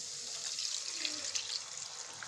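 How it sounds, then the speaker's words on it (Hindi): A cup of water is poured into spices frying in oil for a restaurant-style mixed vegetable sabzi, giving a steady, close hiss and sizzle that runs unbroken and alone. "अब यहाँ पे हम डाल देंगे 1 कप पानी"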